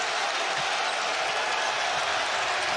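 Basketball arena crowd at a Villanova–UConn college game, a steady broadband roar of cheering and applause holding at high level throughout, with no clear individual voices standing out.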